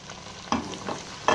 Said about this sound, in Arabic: وهسيبها بقى البصله كده تتشوح شويه وتدينا اللون الذهبي الحلو